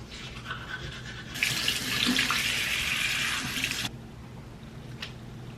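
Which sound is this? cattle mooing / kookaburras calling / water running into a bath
water running into a bath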